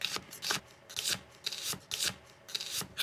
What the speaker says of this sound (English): Just cut them in half and then just go ahead and slice them